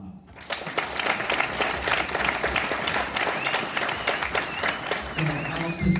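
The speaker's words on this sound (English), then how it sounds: "So let's clap for that." An audience at a Las Vegas event bursts into lively clapping that stays fairly loud and even for several seconds before thinning slightly at the end.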